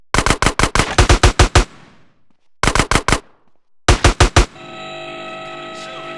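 Gunfire at the Ammu-Nation shooting range in GTA San Andreas: three loud bursts of rapid automatic shots, separated by short gaps, ending in a steady electronic hum.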